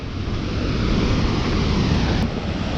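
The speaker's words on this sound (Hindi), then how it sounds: "वो देखो ऐसे झरने बह रहे हैं, वो झरने वाटरफॉल बोल सकते हैं।" Waterfalls at Shahastra Dhara in Mandla pour in many streams, making a loud, continuous broadband rush of falling water that fills the whole stretch without pause.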